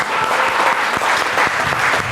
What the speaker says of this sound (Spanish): vamos a brindar un fuerte aplauso